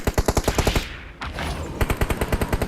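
Rapid automatic gunfire from a PUBG battle: two loud, close bursts of evenly spaced shots, separated by a short pause with a dull rumble.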